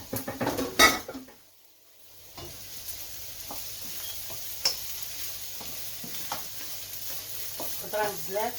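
Vegetables and sausage stir-fry in a pan with hoisin sauce, sizzling steadily while a utensil scrapes and clatters against the metal, with a brief lull before the stirring resumes in quick bursts.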